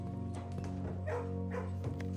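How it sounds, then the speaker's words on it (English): Puppies in the video game Blue Prince give a few short yips and barks over a steady tonal musical hum, close and moderately loud. "But the puppies are good."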